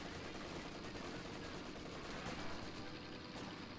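Machine-gun fire in the World War II strategy game Company of Heroes 2, a dense, continuous rattle of rapid bursts blending into loud battlefield noise, with no voices.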